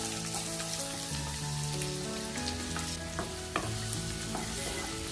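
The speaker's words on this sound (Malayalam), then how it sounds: "അതിലേക്ക് ഞാൻ ഒരു സവാള ചോപ്പ് ചെയ്ത് ചേർത്ത് കൊടുക്കുകയാണ്." Chopped onion frying in coconut oil in a pan, a steady crackling sizzle with occasional stirring clinks throughout, close and moderately loud with no talking.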